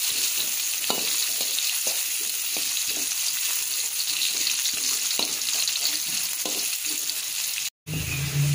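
Shallots and garlic sauté in hot oil with a loud, steady sizzle and rhythmic stirring taps throughout. Near the end it cuts out briefly and resumes more quietly.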